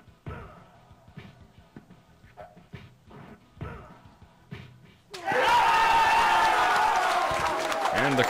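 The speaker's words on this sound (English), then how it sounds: "the crowd erupts" A crowd at Awesome Games Done Quick erupts into loud, sustained cheering and applause, breaking in abruptly after a stretch of quieter talk and scattered sounds and holding as a dense roar to the end.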